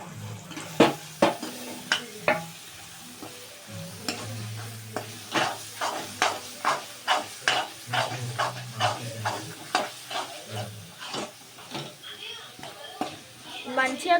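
Coriander leaves and green chillies are stirred into a pan of frying food, a steady series of sharp spatula scrapes and clinks over a soft sizzle, close and fairly loud, with a voice talking now and then.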